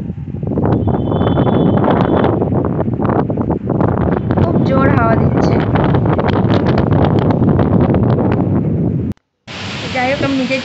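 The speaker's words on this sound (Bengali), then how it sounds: "একটুখানি ছাদে উঠেছি, খুব জোরে হাওয়া দিচ্ছে," Strong gusting wind roars across an open rooftop ahead of an approaching kalbaisakhi storm, loud and buffeting against the microphone throughout, with a brief dropout near the end.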